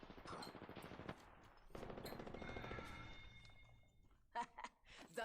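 Automatic gunfire in the Apex Legends battle royale, heard as rapid rhythmic bursts, one early and a longer volley mid-clip, mixed with game effects and a player's speech.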